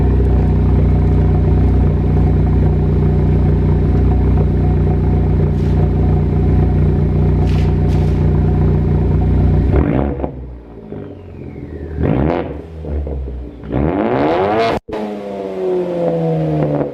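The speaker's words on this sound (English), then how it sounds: "let me give it some revs real quick" A car engine drones loudly and steadily, then revs several times, rising and falling sharply, with a hiss and a pop between revs.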